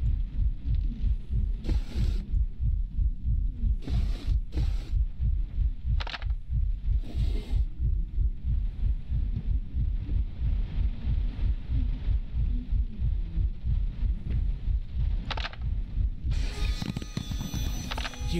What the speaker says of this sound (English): Heartbeat's freaking me out a little bit.